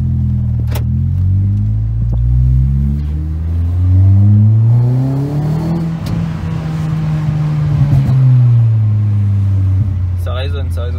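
A Peugeot 206 RC's engine and exhaust resonate while driving, a loud, continuous low drone with pitch rising and falling as revs change, heard from inside the car with a voice speaking over it.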